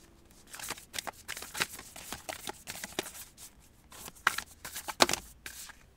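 Tarot cards shuffled by hand in a steady run of quick riffling, slapping bursts, close and fairly quiet, with no talk.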